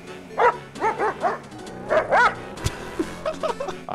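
A pug barks in GTA 5, a quick run of several close, high yappy barks with whimpery tones in short bursts, loud and near, a brief thud midway.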